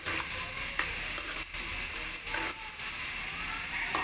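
Corned beef and cabbage being stirred in a frying pan, a steady close sizzle with soft scraping strokes of the spoon throughout.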